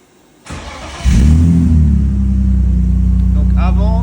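A restored BMW engine on a dyno fires up after a sharp click and settles into a loud, deep, steady rumbling idle with slight revving, heard close in a workshop.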